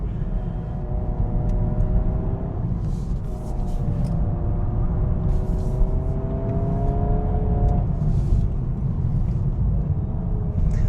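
A 2026 Honda Prelude engine drones steadily from inside the cabin, its pitch climbing and then dropping sharply at simulated gear shifts, over continuous road rumble.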